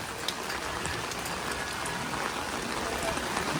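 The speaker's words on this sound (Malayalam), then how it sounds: "ഫുൾ മഴയായത് കാരണം വേറൊരു വൈബിലാണ് നമുക്കിത് കാണാൻ പറ്റുന്നത്" Heavy rain pours at the Naina Devi temple in Nainital during its festival: a dense, constant patter and hiss of drops on surfaces, steady and close throughout with no break.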